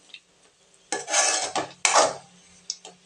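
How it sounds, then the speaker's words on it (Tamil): Roasted groundnuts are stirred in hot oil in a metal pan. Quiet stretches alternate with two loud, close bursts of scraping and rattling, followed by a few lighter clinks. "எண்ணெயில் ஒரு வதக்கலாம். ஒரு பெரட்டுனா போதுங்க."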